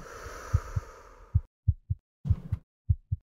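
A deep, thudding heartbeat from the video game Split Mind pulses in close, paired beats, loud and isolated, with a faint hum fading out early.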